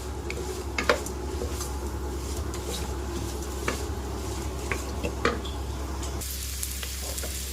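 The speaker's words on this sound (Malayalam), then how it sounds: "ഇതൊന്ന് നമുക്ക് ആ ബട്ടറിൽ നല്ലപോലെ ഒന്ന് ഇളക്കി കൊടുക്കാം" Chopped onions stirred in butter in a pot for masala khichdi, a soft steady sizzle broken by scraping spoon strokes and light clinks against the metal, no voices.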